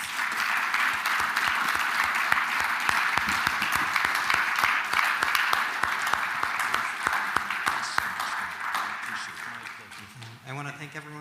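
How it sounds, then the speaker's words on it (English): An audience at an author's book talk gives a sustained round of applause with dense, even clapping that tapers off near the end as a voice begins to speak. "Let's have another round of applause."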